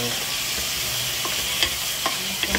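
Chicken being stirred in a hot frying pan, a steady sizzle with a few scraping clicks from the utensil, close and continuous.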